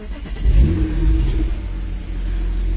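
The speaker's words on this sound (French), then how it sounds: "Alors on va démarrer l'auto ensemble." A tuned car of nearly 500 hp starts up, its engine catching with a deep low rumble and a brief rev before settling into a loud, steady idle close by.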